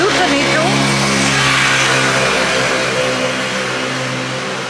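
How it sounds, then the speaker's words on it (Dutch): Cars drive along a former pedestrian shopping street, a steady, fairly loud engine drone as one car passes close by, with a person speaking over the traffic. "Er rijden zelfs hier nog auto's, wat ik niet gewend ben."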